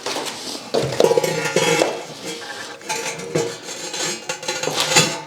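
A ceramic fire bowl set down into a Big Green Egg XL grill, giving clattering, clinking ceramic knocks and scrapes that are close and fairly loud throughout, with no talk.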